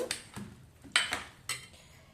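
Mango pickle with mustard oil, spices and vinegar being mixed in a bowl, faint wet scrapes and a few soft clinks of a spoon against the bowl, close and quiet.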